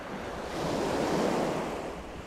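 Strong gusts and breaking waves roar along the shore during night squid fishing off a Pattaya beach, a dense continuous rush of wind noise and surf that swells in the middle, with no talking.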